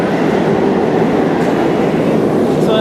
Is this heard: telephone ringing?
no